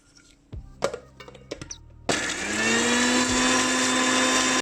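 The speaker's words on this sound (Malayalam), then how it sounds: "ഇതെല്ലാം കൂടി നമ്മളൊന്ന് മിക്സിയിലിട്ടൊന്ന് അടിക്കാം." A kitchen mixer grinder blending chicken breast, garlic and salt into a paste starts after a few clinks and thuds, then runs as a loud, steady, high whirring drone.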